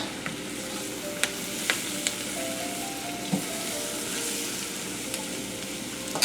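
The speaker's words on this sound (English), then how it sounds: "we are just going to cook the vegetables until they become soft" Vegetables for étouffée sauté softly in a pan, a steady low sizzle with scattered pops and light clicks of stirring, close and even throughout, no voices.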